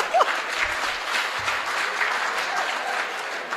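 An audience at a Hindi comedy poetry show breaks into sustained applause, a thick, even wash of clapping heard from within the crowd, with a few louder claps standing out near the start.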